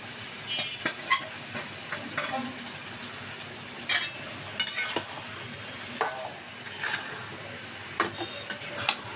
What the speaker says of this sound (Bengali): ভালো করে নেড়ে ছেড়ে মাংসটা ভালো করে রান্না করে নেব